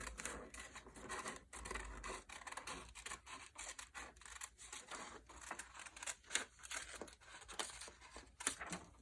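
Scissors snip steadily through paper while cutting out a circle for a children's art project, a close run of quick crisp cuts and rustling with brief pauses, no talking.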